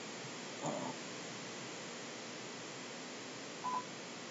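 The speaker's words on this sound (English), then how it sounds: "it's my answering machine. Let me know I got messages that I need to check." Two short electronic beeps, the first near the start and the second a few seconds later, faint against a steady background hiss.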